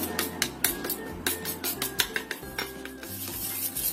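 Utensil scraping and clinking against a bowl while cornstarch is stirred into water, with irregular taps and rubbing strokes, fairly close.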